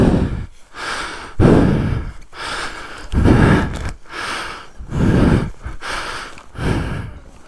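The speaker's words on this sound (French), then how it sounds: "on l'entend assez bien ma respiration dans le casque avec le micro" Heavy, rhythmic breathing picked up by a microphone inside a helmet, roughly seven loud, close inhale-exhale cycles at an even pace, each a rough gusty rush with short pauses between.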